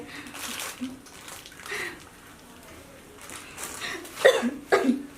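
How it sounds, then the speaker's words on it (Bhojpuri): A light cough from a person, heard as two short, fairly close bursts near the end after a quieter stretch with faint voice-like sounds. "अब बस हल्की खांसी"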